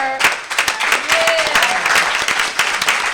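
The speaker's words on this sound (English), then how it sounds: "let's give everybody another round of applause" Applause from an audience at a community justice event, dense sustained clapping with a few sharp individual claps, fairly loud and close, running for several seconds without a break and with no talk.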